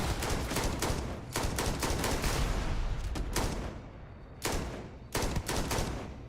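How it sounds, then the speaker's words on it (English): Continuous rapid gunfire fills a firefight in the space game Starfield, dense bursts of shots running almost without pause, dipping briefly near the end before two more loud volleys close in. "Who keeps fucking shooting at me?"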